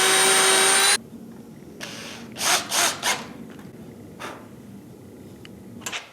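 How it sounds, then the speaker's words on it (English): A power drill with a countersink bit bores a pilot hole in wood, giving about a second of loud, close whirring, then quieter scraping and rubbing bursts. "It's best first to drill a pilot hole with a countersink."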